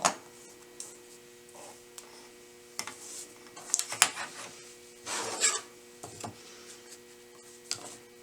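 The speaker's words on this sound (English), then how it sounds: "line up the 1/4 inch sew line and cut on the dotted line" Paper-pieced quilt block trimmed along the dotted line with a ruler and cutter, giving soft scattered rasping scrapes and short cuts close by, with pauses between strokes and no talking.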